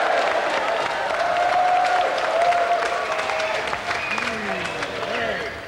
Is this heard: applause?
yes